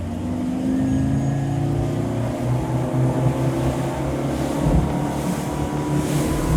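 An Axopar 29 CCX motorboat cruises at about 35 knots over small swells. Its engine gives a steady, loud, close drone mixed with rushing wind and hull noise, and there is no talking.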